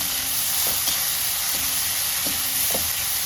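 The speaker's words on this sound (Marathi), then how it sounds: "टोमॅटो पण टाकायचा, मिक्स करायचं, हिंग टाकायचं, हळद टाकायची आणि छान परतून घ्यायचं मस्त." Tomato with asafoetida and turmeric sizzles steadily in a hot pan, with a constant frying hiss broken by a few soft stirring scrapes spaced about a second apart, close and fairly loud.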